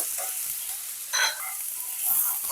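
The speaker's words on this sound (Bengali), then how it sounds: "এবার এটাকে একটু কষিয়ে নেব, আর গ্যাসের ফ্লেমটাকে লোতে রেখেই ভাজতে হবে" Ground cumin, coriander and Kashmiri chili powder sizzle softly in a pan over a low flame, a brief close hiss with a faint stir in the middle.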